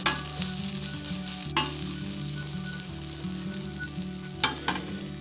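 Onions frying in a pan at a campsite, a steady sizzle and crackle with a low constant hum underneath and a few sharp clinks, close and moderately loud, with no talking.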